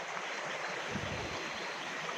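A creek flowing along a curving bed outdoors, a steady, soft, continuous rush and trickle of water with no voices over it.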